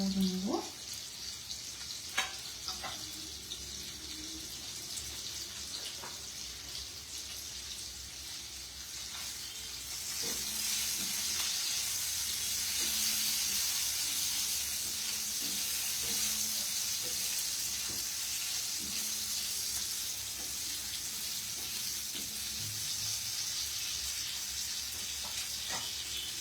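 Food sizzles and fries steadily in a covered pan during a live cooking session, a continuous hiss that swells slightly louder midway, with occasional faint clinks and no talking.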